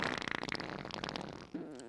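A fart sound effect sputters along in a long, rapid run of loud, wet bursts, then ends in a wobbling, drawn-out squeak. It plays on its own, with no talk over it.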